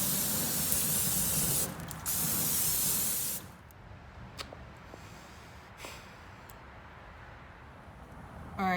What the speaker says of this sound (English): I'm also going to spray these grates.